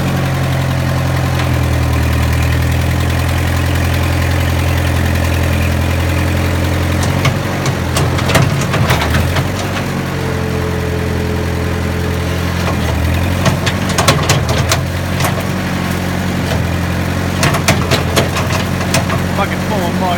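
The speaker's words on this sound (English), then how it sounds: "That's at idle, so I mean, this is a great little tractor." An Oliver tractor engine idles low and steady with a deep rhythmic throb, while metallic clanks and knocks break in now and then over the running motor.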